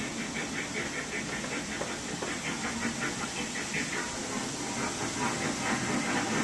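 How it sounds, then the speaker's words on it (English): Miniature steam train arriving on a model village railway: a steady hissing chug with rhythmic clattering pulses continues throughout at even volume, fairly close. "Oh, I believe there's a train coming."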